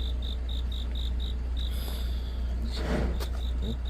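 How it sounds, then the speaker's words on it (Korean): Crickets chirp on an autumn night in a steady, evenly spaced pulse of high trills, with a brief rustling noise partway through. "귀뚜라미 소리"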